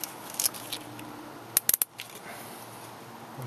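Cutters snip off the small excess ends of zip ties during an automotive install, with a couple of faint clicks followed by a quick burst of three or four sharp, close snips in a quiet room.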